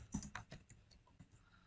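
Quick bursts of keystrokes on a computer keyboard while entering text into an Excel spreadsheet, close and fairly quiet, a rapid cluster of taps followed by a few scattered presses.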